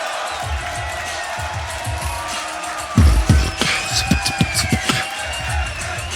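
A crowd at a beatbox battle cheers and shouts, a steady roar of voices that swells into louder bursts of whooping partway through, with an announcer's voice mixed in.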